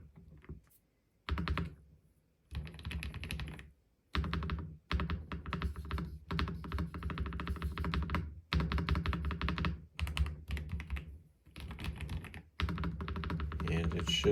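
Steady typing on a Tecware Spectre 75 mechanical keyboard fitted with a modified spacebar, close and crisp keystrokes in fast bursts separated by short pauses.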